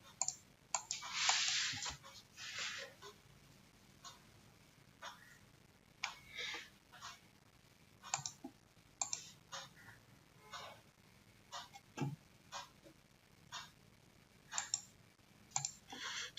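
Sharp, faint computer mouse clicks land singly and in quick pairs at irregular intervals while someone works in QGIS plugin software. The room is otherwise quiet, with no talking.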